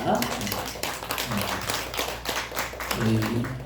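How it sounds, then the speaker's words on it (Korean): A church congregation at Sunday worship claps in welcome, steady moderate clapping running throughout, partly under voices speaking nearby. "잠깐 일어나실 때 박수로 환영하겠습니다."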